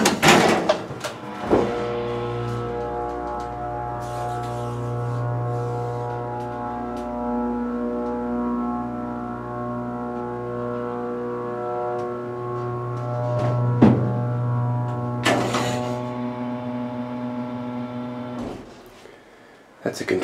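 A Montgomery hydraulic freight elevator at a shopping mall runs with a steady low motor hum and pump drone. Sharp clanks and thuds come at the start, in the middle and near the end.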